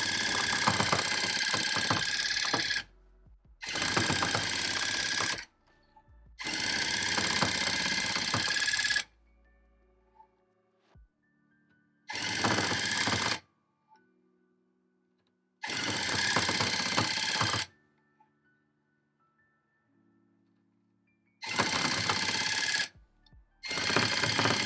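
A tufting gun punching yarn into a rug, running in loud buzzing bursts of a few seconds each, separated by near-silent pauses with faint handling noises.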